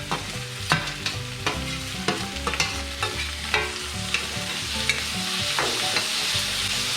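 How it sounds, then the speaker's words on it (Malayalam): Green chillies and crushed shallots frying in a pan in a Kerala home kitchen, with a steady sizzle broken by repeated clattering stirs and scrapes of a spoon against the pan. "കൂട്ടത്തിൽ പച്ചമുളകും, ഈ കൂട്ടത്തിൽ തന്നെ നമുക്ക് ചതച്ച് വെച്ചിരിക്കുന്ന ചെറിയ ഉള്ളിയിൽ ഇട്ട് കൊടുക്കും."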